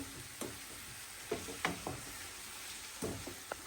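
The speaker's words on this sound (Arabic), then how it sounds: "غنخلطو مزيان ونخليه يتشحر مزيان" Onion with salt, spices and garlic sizzles softly in a pan for a creamy risotto, with a steady low fry broken by several scraping stirs and clinks of a spoon.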